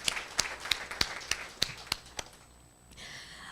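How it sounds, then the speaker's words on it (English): Applause from an audience at a Nairobi Securities Exchange Ibuka programme event: a string of sharp, evenly spaced claps that thins out and stops after about two seconds, followed by quiet room tone. "let's give a round of applause to Wamboi and Leonard."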